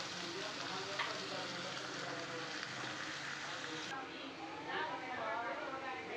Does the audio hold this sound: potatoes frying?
yes